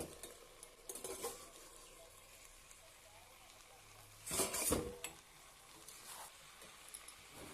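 Vegetables are stirred in a pan, with intermittent scraping and clinking of utensil against metal and a faint sizzle beneath, one louder stirring burst midway, near and fairly quiet.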